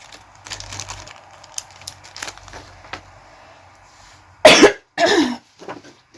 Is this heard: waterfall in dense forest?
no